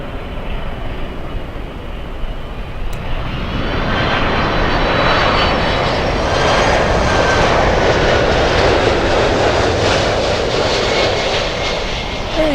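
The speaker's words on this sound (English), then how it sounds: "We wanted a LATAM freighter. We got a LATAM freighter." A LATAM Boeing 767 freighter jet rolls past at Miami International, its engine roar rising from a lower rumble into a loud, sustained whine and rush that stays near and constant, with no talking.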